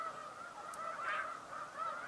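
Swans call from a wintering bird spot, a few honking, nasal notes rising over a steady background hum, moderately distant with no talk.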